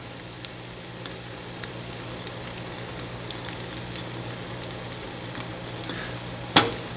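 An omelet with dill and cheese fries steadily in a pan, giving a soft, continuous sizzle with small crackles throughout and one louder clatter near the end, with no talking.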